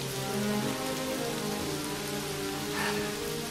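Steady rain falls in a video game, a dense continuous patter of drops on surfaces over a low sustained ambient hum, even and unbroken, with no voices.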